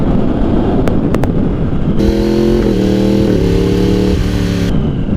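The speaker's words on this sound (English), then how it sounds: "Now I'm gonna do some quick shifting." A Yamaha motorcycle accelerates hard nearby, its engine note climbing in steps as the quick shifter clicks through several rapid gear changes without a pause, loud and close.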